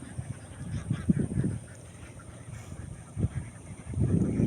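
Ducks quack in a flock nearby, giving a run of harsh, uneven bursts with brief pauses in between, fairly close and with no one talking over them.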